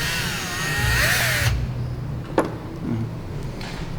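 A power drill whines loudly for over a second while drilling into the metal of an RB25 engine, then cuts out, followed by a sharp clack and quieter handling noises.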